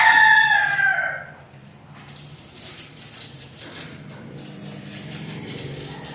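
Roosters crow outside, one loud drawn-out crow in the first second, then fading into a low steady background murmur with no further clear calls.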